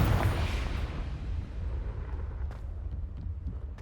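Confringo fire spell explosion in the Hogwarts Legacy game, a loud booming blast at the start that decays into a rumbling tail, followed by a few faint crackles.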